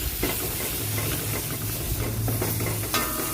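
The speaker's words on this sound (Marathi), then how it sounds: "आता हे चांगलं परतवून घेऊ।" Mutton being stir-fried with black masala, turmeric and mutton masala in a pan: a steady close sizzle with scraping stirs throughout, no talking.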